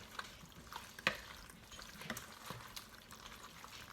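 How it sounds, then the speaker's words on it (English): Pasta and basil pesto being tossed and stirred together in a bowl make faint, close scraping and soft wet clicks, with one sharper clink near the start. "Stir that together"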